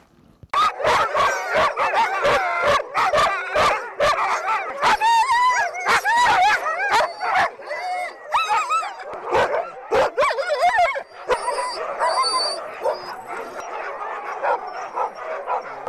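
A team of Arctic husky racing dogs for the Finnmarksløpet fills the air with dense, overlapping barks, yips and whines, with drawn-out howls rising through the chorus, all loud and close.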